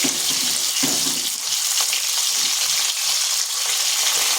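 Pieces of rohu fish fry in oil with a constant, close, hissing sizzle that holds steady throughout, with no speech.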